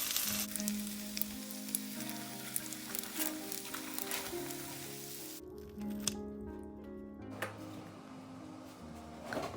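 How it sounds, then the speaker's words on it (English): Spring rolls pan-fry in hot oil in a home kitchen, giving a quiet, steady sizzle. Faint clinks and soft handling noises sound over it, and there is a brief dip partway through. "Pan fry both sides till golden brown."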